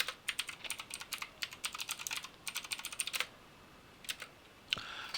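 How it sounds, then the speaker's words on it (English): Rapid bursts of key clicks from a failing USB computer keyboard, clustered in quick runs with brief pauses and a lone tap near the end, close and fairly crisp with no talking. "So I've got a USB keyboard that has been getting progressively more and more dodgy, and this is what you're seeing here"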